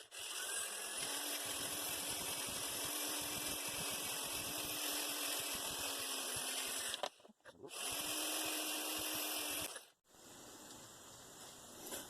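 A power sander or buffer works a Dodge Ram 1500 brake rotor, a steady high-pitched whine running continuously, cutting out briefly twice and restarting.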